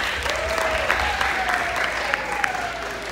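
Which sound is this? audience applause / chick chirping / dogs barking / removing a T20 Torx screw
audience applause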